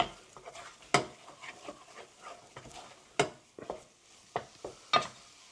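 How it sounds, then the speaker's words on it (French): A wooden spoon beats choux pastry dough energetically in a pan over lowered heat, giving soft, irregular scraping and thudding strokes with several sharper knocks against the pan, fairly quiet and close. "Il faut remuer énergiquement. Avec une cuillère en bois"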